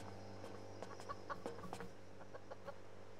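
Chickens in the Subsistence survival video game cluck in soft, scattered bursts over a steady low hum of game ambience, with no talk.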